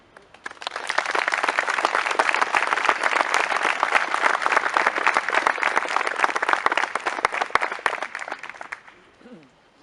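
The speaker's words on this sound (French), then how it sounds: "nous pouvons également applaudir" A crowd applauds at an outdoor commemoration ceremony for the 18 June 1940 appeal, sustained clapping of many hands lasting about eight seconds before it stops abruptly, followed by a brief voice.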